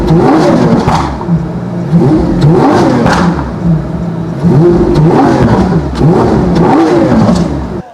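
A Lamborghini Aventador fitted with a Capristo exhaust revs hard and loud, close by. Repeated rising and falling wails through the gears fill the clip with a sharp, high-pitched scream, and no voices are heard.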